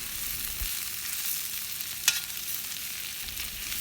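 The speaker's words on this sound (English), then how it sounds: "Just mix it very well." Potato subzi with onion being mixed in a pan, a steady soft frying hiss throughout with one brief scrape of the spoon near the middle.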